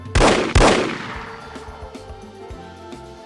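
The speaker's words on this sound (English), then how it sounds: "Volkov appears and guns down Bruno" Two loud, close gunshots crack out half a second apart as Volkov guns down Bruno in No One Lives Forever, each ringing off into a long decay, followed by fainter thuds and clatter, with no talking.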